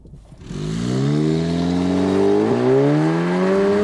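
An Audi S with an S-tronic twin-clutch paddle-shift gearbox launches hard from rest using launch control. The engine note climbs loud and steady through the run, with a brief shift-like dip partway, and no talk.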